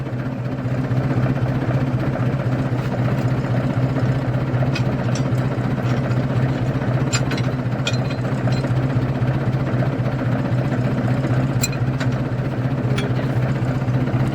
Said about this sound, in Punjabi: ਟਰੈਕਟਰ ਦੀ ਕਚਾਈ ਵੇਖਣੀ ਆ ਬੜਾ ਟਰੈਕਟਰ ਆਪਣਾ ਜ਼ੋਰ ਲਾਉਂਦਾ ਜਾਂ ਨਹੀਂ ਲਾਉਂਦਾ